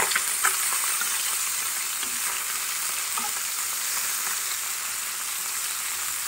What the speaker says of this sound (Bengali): মাছের টুকরাগুলো একটু ভেজে নিই।